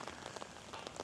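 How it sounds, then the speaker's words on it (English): Heavy rain pours down steadily on a surface, a dense, even hiss with scattered droplet patter throughout, no voices. "It's pouring down rain"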